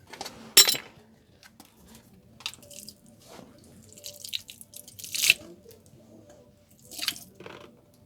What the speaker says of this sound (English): I can crack it open and let it drain.